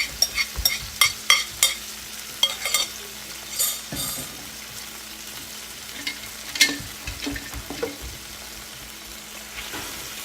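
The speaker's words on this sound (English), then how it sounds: "you're just going to stir fry this and just until the meat is done" A beef mixture stir-fries in a hot skillet, sizzling steadily under a run of quick spoon scrapes and clicks against the pan. It is close and clear, with no voices.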